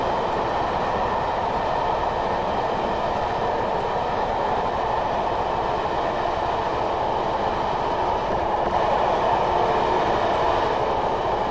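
An eight-coach electric passenger train on the Tonbridge to Hastings line in Train Sim 2020 runs fast with a steady, loud rumbling roar of wheels on rails, continuous and close throughout.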